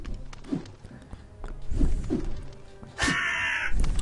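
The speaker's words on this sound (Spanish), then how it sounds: "estos son los cuervos que has dicho en notas" Crows caw in the video game Unepic: several harsh, scratchy calls spread over a few seconds, mixed with game ambience and a louder bright burst near the end.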